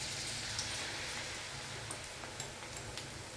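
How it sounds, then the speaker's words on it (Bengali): Fritters made with rice flour fry in hot oil, giving a soft, steady sizzle and crackle with scattered tiny pops, faint and continuous, with no talk. "একটা একটা করে এভাবে নিয়ে তেলে ছেড়ে দিব এবং লাল লাল করে"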